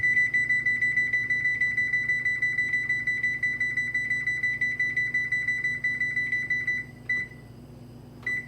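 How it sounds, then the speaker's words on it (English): A kitchen cooking timer, set while cabbage with mixed vegetables cooks on a stovetop, gives a steady run of rapid, evenly spaced high beeps that go on for about seven seconds, then a brief stutter and a final chirp. "And we're gonna put the timer on."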